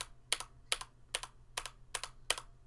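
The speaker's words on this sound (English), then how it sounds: "if you press a key the same way multiple times, it sounds the same" Six distinct keyboard keystrokes at a steady, even pace, each a crisp click with a short double tap, close up with no talking.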